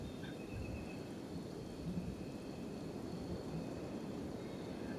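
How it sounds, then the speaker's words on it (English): Blood rain falling with rolling thunder in the game Kenshi, a steady dense wash of rain with low rumbling swells, heard alone without voices. "Ah, Vane, with the blood rain."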